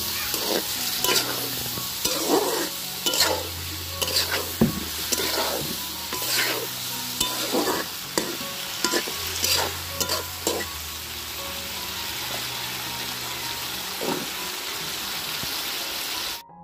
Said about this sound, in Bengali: মশলাটাকে ভালো করে কষিয়ে তারপরে হচ্ছে ধুয়ে রাখা সিম আর আলু মশলার মধ্যে দিয়ে ঢাকনা দিয়ে ঘুরে ভালো করে কষিয়ে নিচ্ছে।